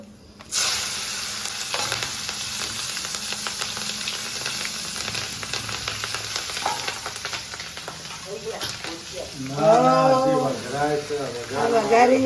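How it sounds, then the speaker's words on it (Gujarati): Hot oil crackles and sizzles steadily with popping mustard seeds, curry leaves and chillies, loud and close; a voice talks over the frying near the end. "રાઈ ને મીઠા લીમડાના મરચાના વઘાર કરી દીધો છે"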